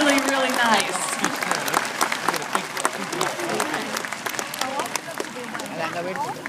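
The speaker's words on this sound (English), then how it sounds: "giving him a big round of applause" Audience at a Shamu orca show breaking into applause, a dense burst of clapping and crowd noise that carries on steadily, with voices mixed in.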